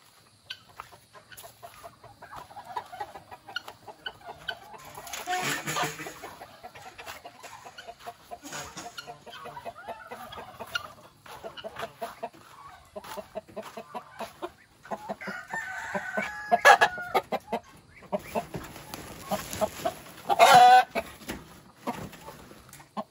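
Chickens on a farm cluck and call in irregular bursts close by, with a rooster crowing loudly a couple of times partway through.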